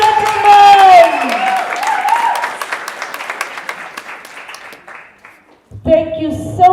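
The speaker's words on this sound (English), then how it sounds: "one hearty round of applause" Audience applause at a primary school speech contest, a steady wash of clapping that swells and fades while a voice talks over it at the start and again at the end.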